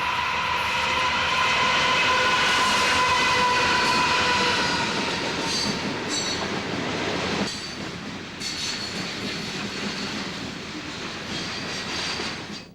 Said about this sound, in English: The C40-8 leading this unit coal train has a determined look on its face.